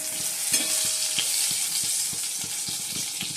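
Hilsa fish frying in a little oil, giving a steady close sizzle broken by a run of regular scraping stirring strokes, with no talk.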